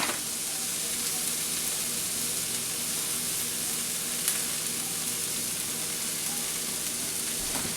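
Steady sizzling of ingredients frying in a pan for a taco hotdish casserole, a constant bright hiss throughout with a faint occasional stir, fairly close and unbroken.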